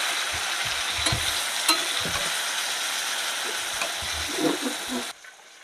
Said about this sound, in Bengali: তো আমি এইভাবে ভালো করে এবার কষিয়ে নেব।